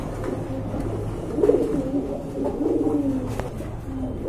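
Several pet pigeons in a loft coo in low, overlapping throaty calls close by, with soft background rustle.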